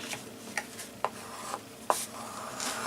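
Paper being burnished along folds for a mini album, a soft steady rubbing with several small sharp scrapes spaced about half a second apart, close and quiet.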